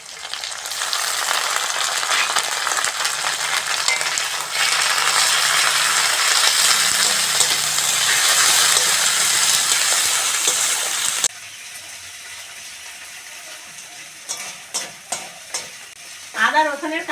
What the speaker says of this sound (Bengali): পেঁয়াজ আর লঙ্কাটা ভালো করে ভেজে নিয়েছি। এবার রসুন বাটাটা দিয়ে দেবো